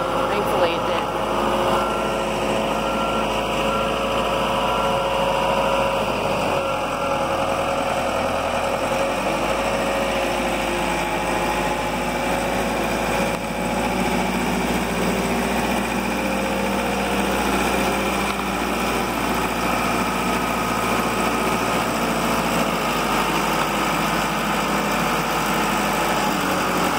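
A Gradall excavator engine runs steadily for a long stretch, a loud continuous droning rumble with constant mechanical vibration and no clear breaks, heard close and unbroken throughout.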